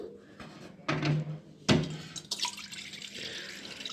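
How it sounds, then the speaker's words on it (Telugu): Waste water drains out of a washing machine during cleaning, gushing and splashing in uneven bursts that start and stop, near and fairly loud. "ఇందులోకి వేస్ట్ వాటర్ వచ్చి ఉండదంట కదండి సో అది ఫస్ట్ అయితే అది తీస్తున్నాము"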